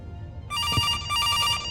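An electronic telephone rings in a kitchen in a horror video game, its repeated bell-like tone starting after a quiet moment and sounding steadily at moderate distance.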